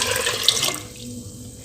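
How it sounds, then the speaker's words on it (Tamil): Water pours into a cooking pot for rice and dal, a brief bright gush for about a second that quickly tapers off into quiet. "மொத்தம் 10 உலக்கு தண்ணியை அரிசி ஊற வச்ச தண்ணியும் சேர்த்து மெஷர் பண்ணிட்டேங்க. இப்போ அதை உள்ளே சேர்த்துக்கலாம்."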